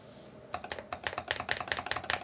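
Typing on a NEO Keys G67 mechanical keyboard with an acrylic case, crisp close-up keystrokes in a quick, uneven rhythm that begin after a short quiet moment.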